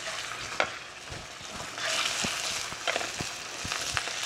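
Large pieces of rabbit meat sizzle and crackle in hot oil in a pan, a steady loud frying hiss with scattered pops and light clinks, heard close with no talking.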